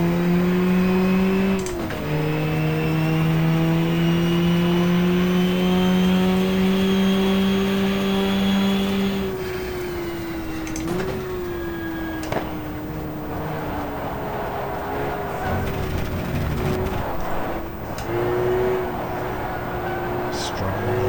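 The number 53 Porsche race car in the GTR2 game screams around Suzuka in a 1994 four-hour race, its engine pitch rising and dropping through gear changes, loud and steady beneath a commentator's talk.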